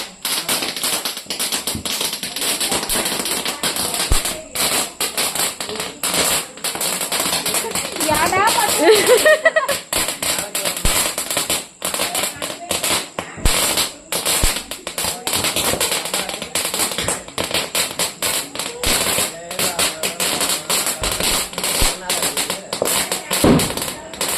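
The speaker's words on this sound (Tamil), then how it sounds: "உருண்டை இந்த வெடி எப்படி வெடிக்குதுன்னு பார்க்கலாம்." Diwali firecrackers going off nearby, a dense stream of sharp crackling pops and bangs with continuous noisy bursts over about twenty-four seconds, loud, with people talking amid the commotion.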